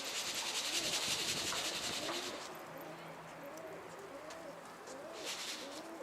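Pigeons in a loft coo in several soft, rolling calls, starting after a burst of rubbing, fluttery noise and continuing in a steady rhythm close by.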